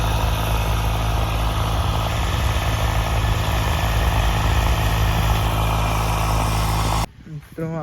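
A tractor engine runs in a farm field, a steady, loud idling drone with a constant low hum. It holds evenly for about seven seconds, then cuts off abruptly near the end.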